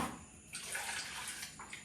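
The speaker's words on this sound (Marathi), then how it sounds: "तर मी याच्यात थोडंफार पाणी टाकते" A short, soft splash of a little water poured into a spiced pani puri mixture, a brief close trickle that swells and fades within two seconds.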